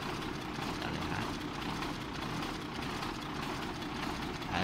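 A Volvo FL10 truck engine idles steadily with a deep, even rumble and a broad hiss on top, holding a constant level with no voices, while its radiator overflows with coolant.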